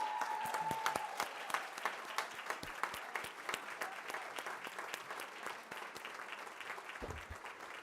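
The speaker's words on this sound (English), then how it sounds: "let's give Mrs. Holly Don a round of applause" A school board meeting audience gives a standing round of applause for an honored teacher, with moderate, steady clapping from a modest crowd at some distance, individual claps audible, and a brief tone near the start.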